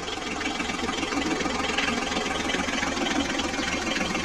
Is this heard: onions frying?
no